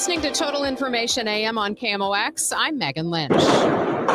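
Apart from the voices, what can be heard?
fireworks and gunfire in downtown St. Louis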